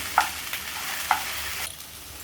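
Okra pieces fry in a pan for a Telugu-style dry okra fry, with a steady soft sizzle broken by a couple of sharp scraping stirs of the spatula, close up and with no voices.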